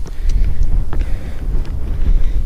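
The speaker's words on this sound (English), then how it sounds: "It's windy." Strong wind buffeting the microphone on an uphill mountain walk, a loud continuous low rumble with gusty flutter and no pause.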